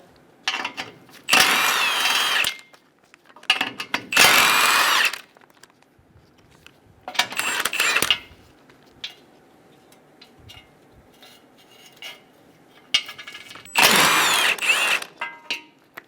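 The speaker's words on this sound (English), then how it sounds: "Using a 14mm socket, remove the 3 nuts on either side for the impact bar." Several bursts of a power tool whirring as a 14mm socket spins nuts loose from a 2005-2015 Toyota Tacoma bumper impact bar, each lasting a second or so, with quieter clinks and handling between.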